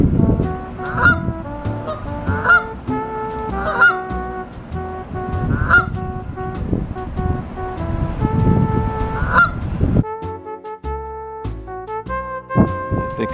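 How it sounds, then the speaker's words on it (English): Ducks call beside the old Erie Canal at Lock 36 in Little Falls, New York. Loud, close honking calls repeat in a quick, uneven rhythm, overlapping throughout with no talking. "The ducks are everywhere today."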